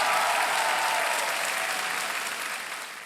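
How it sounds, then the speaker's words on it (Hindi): Steady studio audience applause on a television quiz show set, full and continuous, slowly tapering off. "तालियां बजती रहें देवी और संजू"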